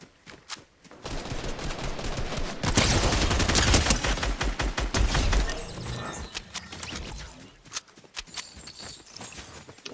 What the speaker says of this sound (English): that was the SMG I was hearing